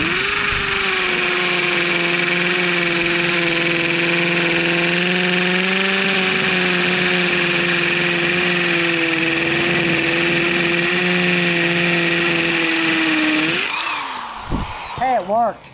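A hammer drill on hammer mode runs continuously with a steady whining motor drone for many seconds, close and loud, then winds down with a few short bursts at the end.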